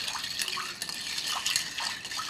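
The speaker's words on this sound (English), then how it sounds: "instead of shaking it, we're gonna stir it very gently" A gin martini is stirred gently in a mixing glass, giving soft, repeated liquid swirls and light clinks against the glass, fairly quiet and close.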